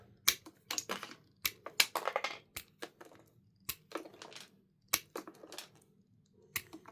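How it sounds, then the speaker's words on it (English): Klein wire strippers snip through solid number 10 copper wire, close and fairly quiet, giving sharp isolated clicks and crunches at irregular intervals with short pauses between cuts. "So here comes some solid copper cuts."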